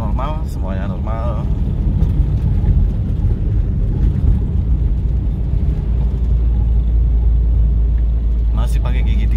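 A Mitsubishi Lancer EVO 3 being driven in third gear, its engine giving a steady, loud, low rumble throughout. Someone talks over the engine noise at the start and again at the end.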